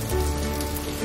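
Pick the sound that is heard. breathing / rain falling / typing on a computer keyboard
rain falling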